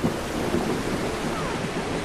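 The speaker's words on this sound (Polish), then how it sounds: "Kurde, teraz burza." Heavy thunderstorm in the video game Far Cry Primal, with a dense, continuous roar of rain and rumbling thunder filling the whole stretch at steady loudness, no voices.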